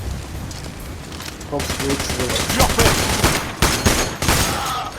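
Rapid bursts of gunfire from the heist video game Payday, fairly loud and near, starting after a quieter opening and running in dense repeated volleys with brief gaps, with game sounds mixed in.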